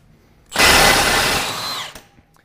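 A loud power tool unbolts the axle shaft nut on a 2014 Chevy, one sustained whirring burst of about a second and a half that starts abruptly and cuts off, followed by a faint click.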